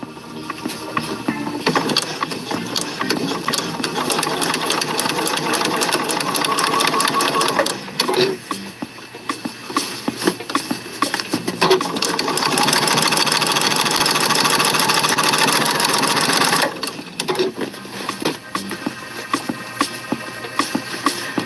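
A sewing machine stitches binding onto thick fabric, its motor whirring loudly and steadily in long runs with brief pauses between them.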